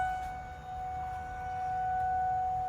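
Emergency sirens sound steadily in the distance as a derecho storm approaches western Elkhart, Indiana, a sustained tone holding through the whole stretch over a low rumble of wind and rain.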